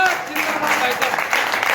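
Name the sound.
audience clapping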